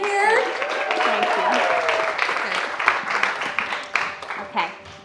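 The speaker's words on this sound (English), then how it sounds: "warm applause for this beautiful lady over here" An audience applauds someone speaker at a talk. Steady clapping fills the room while voices speak over it, and the applause thins out toward the end.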